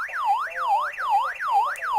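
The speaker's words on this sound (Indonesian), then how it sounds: "Kita coba ke tombol 2. Berupa alarm, tapi alarm tidak ditransmitkan." A handheld VHF radio sounds its button-2 alarm: a loud electronic siren tone sweeping rapidly up and down in a steady, repeating wail, heard alone and close.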